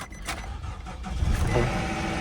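Ford F-250 pickup engine cranking and catching, then settling into a rough idle, loud and close, with no voices.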